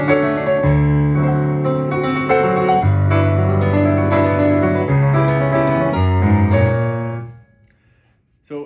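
Piano plays the opening chord progression of a remix: sustained chords changing roughly every two seconds over a low bass line, steady and close, then fading out near the end with a faint brief sound after.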